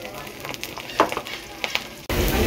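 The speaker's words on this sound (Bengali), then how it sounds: "পেঁয়াজটাই এই পর্যায়ে ভেজে নিব" Chopped onion frying in mustard oil with black cumin seeds and a little chopped garlic: a moderate crackle with stirring clicks, then a sudden, much louder sizzle that surges up near the end, close by and free of speech.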